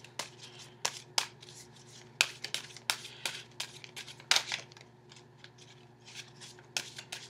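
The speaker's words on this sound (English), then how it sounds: "I'm going to get one last shuffle in here before I go over the cards." Tarot cards are shuffled by hand up close, a string of quick crisp riffles and soft slaps at an uneven rhythm over a faint steady hum, with no talking.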